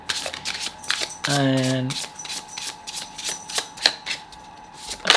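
Tarot cards are riffle-shuffled in a quick, papery burst, followed by soft handling rustles and a brief spoken word nearby.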